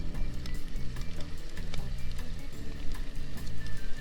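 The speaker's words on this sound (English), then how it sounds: "sizzling away nicely in there" Food sizzling over added coals at an outdoor camp fire, a steady crackling hiss with small pops running continuously and close up, no voices.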